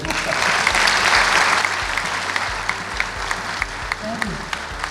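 Loud audience applause fills a hall at a mile-long trail opening ceremony right after a speech, dense clapping that peaks early then thins out and tapers off over several seconds.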